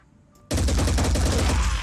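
Automatic gunfire in the tactical game Phoenix Point bursts in after a brief quiet lead-in, a loud, dense rattle of rapid shots continuing steadily to the end with no talking over it.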